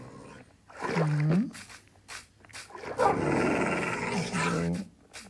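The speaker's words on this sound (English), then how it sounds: "the growling gets kind of annoying" Minecraft wolves growl in a video game in two drawn-out snarling bursts, fairly close and loud, with brief gaps of quiet between them.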